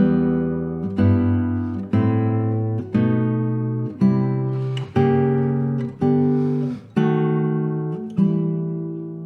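Guitar strums a series of chords, each struck and left to ring about a second, about nine in a row moving upward, clear and close.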